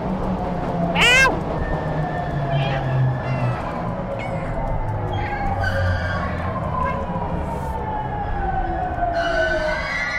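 A cat meows repeatedly in the Stray video game. Several short mewing calls are heard over a steady background drone, with a rising tonal sweep like a siren running underneath.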